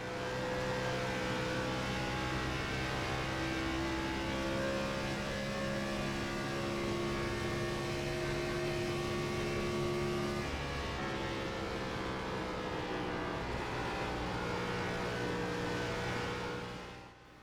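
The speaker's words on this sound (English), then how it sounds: "you can really see how much the car is really roaring down the straights" An iRacing Gen 4 Cup car roars down a straight at Auto Club in a racing video game, its engine a loud, sustained drone holding a steady high pitch before easing slightly near the end.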